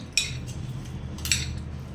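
A metal spoon mixing rice on a plate, with two bright clinks against the plate, one near the start and one later, over a quiet background.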